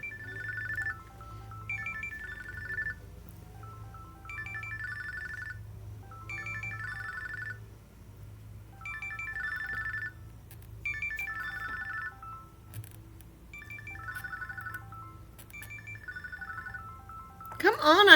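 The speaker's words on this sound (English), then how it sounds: "Come on, I'm trying to answer the phone." A telephone rings repeatedly in a steady melodic ringtone pattern, moderately loud and close, with a low background hum throughout and a brief noise at the end.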